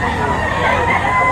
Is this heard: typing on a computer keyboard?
no